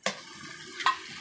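Chicken stirs and fries in a pan, two soft scraping strokes over a low sizzle, fairly faint and close.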